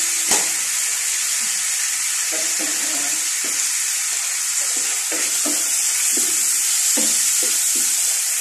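Sardines and bottle gourd sautéing in a pan: a loud, continuous sizzle with repeated scraping and stirring strokes of a utensil against the pan, no talking.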